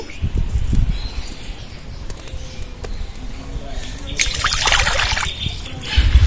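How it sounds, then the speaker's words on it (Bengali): Pieces of raw jackfruit are rinsed in water, with trickling and splashing that swells into a louder burst of running water toward the end while a person talks. "ইঁচড়গুলো ভালো করে ধুয়ে নিতে হবে ইঁচড়গুলো জলে দিয়ে দেবো"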